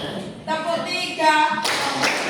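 A class of schoolchildren claps together during a counting game, a short burst of hand claps close by, with voices of children and a teacher talking around it.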